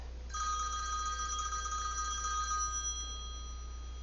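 A telephone rings with a bright electronic trill that lasts about two seconds and then fades into a faint ringing tail over a low steady hum.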